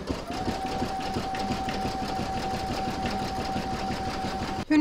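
An embroidery sewing machine works through a satin stitch border on an in-the-hoop mandala placemat, a fast, even mechanical chatter with a faint steady whine, continuous and close, no talking.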